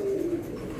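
A racing pigeon gives a short, close, low coo, a single brief call lasting under a second.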